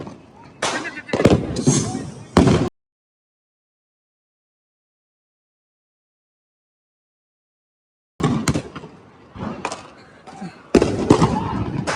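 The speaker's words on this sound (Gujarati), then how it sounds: "પાછળ મસ્ત ફટાકડા ફૂટી રહ્યા છે" Diwali firecrackers burst in sharp, crackling volleys, several rapid pops in clusters, with a silent gap between the two bursts.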